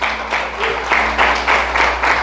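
A church congregation claps together in a pulsing, rhythmic wave of applause, with crowd noise and a steady low hum underneath.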